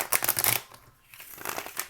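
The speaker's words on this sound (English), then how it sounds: "Let me just shuffle one more time." A brief riffle of shuffling tarot cards, two quick bursts of papery flicking separated by a short pause, close and fairly soft.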